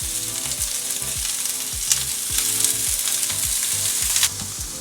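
Carrots, cabbage and bean sprouts stir-fry for egg rolls, a loud continuous sizzle broken by repeated scraping strokes of a utensil against the pan, with no voices.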